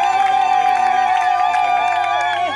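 Wedding guests in a celebration ceremony cheer and acclaim together, a sustained, loud crowd roar with high ringing voices held steady throughout the brief moment.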